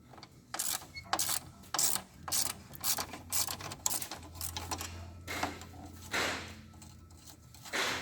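A hand ratchet clicks in quick irregular bursts while loosening a 10mm nut on the rear J-hook of a 2012-2014 Toyota RAV4 EV, close and fairly quiet, with no talk.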